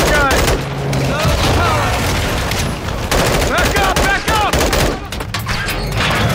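Rapid automatic gunfire in a firefight in Call of Duty Modern Warfare 2 Remastered during a prison break, loud and continuous bursts with a voice shouting over the shooting.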